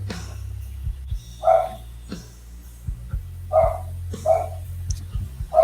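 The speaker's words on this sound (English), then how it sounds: "And you've got a dog barking in the background." A dog barks in the background, four or five separate mid-pitched barks at uneven intervals, moderately distant, over a low electronic hum with no talking.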